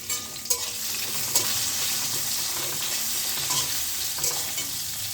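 Aubergine pieces frying in hot oil with salt and turmeric, a dense continuous hiss and crackle up close, broken by a few sharper pops and spatula clinks, with no voices.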